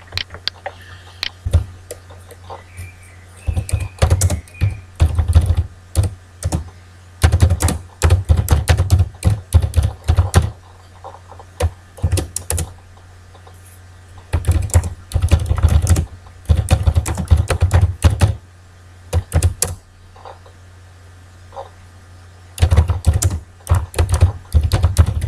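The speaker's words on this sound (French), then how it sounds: "Donc on va taper ces trois lignes dans Microsoft Word." Keys clatter on a computer keyboard as text is typed into Microsoft Word 2007, coming in irregular bursts of rapid clicks separated by short pauses, close and fairly loud against a steady low hum.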